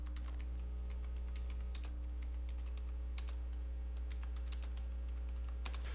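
Steady computer keyboard typing, with scattered clicks and short bursts of keystrokes over a constant low hum, quiet and close, no voices.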